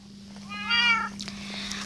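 Cats meow in the video game Good Craft: one drawn-out, clear meow rises over a steady low electronic hum, followed by fainter game sounds.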